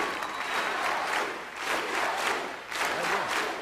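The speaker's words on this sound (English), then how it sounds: "Ordinary crowds, they greeted him like a pop star." A large crowd greeting Pope John Paul II cheers and applauds continuously, a dense wash of clapping and shouting that swells and dips in waves, heard from a distance.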